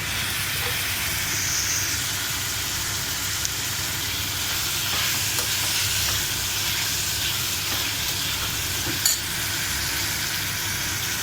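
Coriander leaves, curry leaves and salt fry in oil for pappu charu, giving a loud, continuous hissing sizzle that barely changes, with no one talking.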